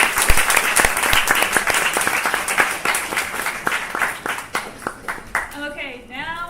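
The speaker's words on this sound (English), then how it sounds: "Let's do a quick round of applause for these guys as well, please." An audience applauds after a project presentation at the Seoul Tech Impact 2024 event, steady dense clapping from a crowd that thins out near the end as a voice starts to speak.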